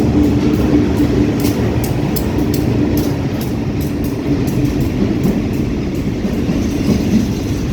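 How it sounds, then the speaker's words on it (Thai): A container freight train pulled by a diesel locomotive rolls through Lopburi station at night, loud and close, its wheels clacking in a steady rhythm over a constant rumble. "ขบวนรถสินค้าตู้คอนเทนเนอร์นะครับ"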